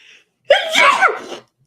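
A single loud, close sneeze bursts out after a brief quiet intake of breath, then fades.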